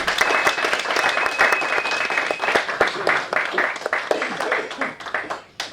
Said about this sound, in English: give these a round of applause